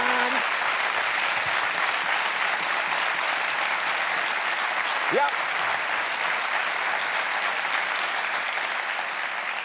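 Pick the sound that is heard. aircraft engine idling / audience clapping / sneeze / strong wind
audience clapping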